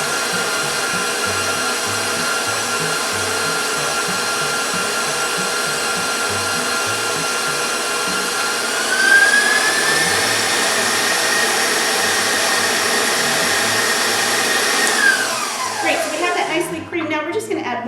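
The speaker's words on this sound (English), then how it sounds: "as the mixer's working it" Electric mixer beating slightly chilled butter for muffins, a steady loud whirring drone that runs throughout, with its pitch shifting midway and clattering near the end.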